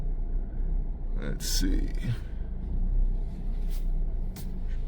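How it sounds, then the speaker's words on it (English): A car rolls slowly out of a garage, a low steady engine rumble running throughout with a few brief hisses and knocks, while someone speaks briefly over it. "you guys normally don't see me pulling the car out"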